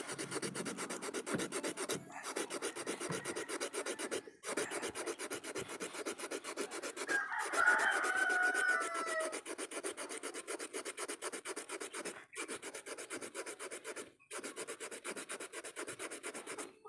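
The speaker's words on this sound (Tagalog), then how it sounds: "Tapos lihain na rin natin yung panlikod para kuminis" A file and sandpaper rasp back and forth over the back of a wooden piece to smooth it, in repeated close, dry strokes separated by short pauses, with no talking.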